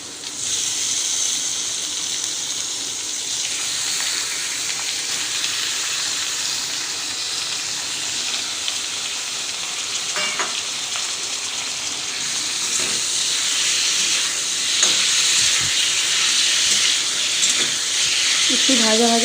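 Chicken fries in a pan with a steady, close sizzle and hiss lasting the whole stretch, broken by a few faint scrapes and taps near the end.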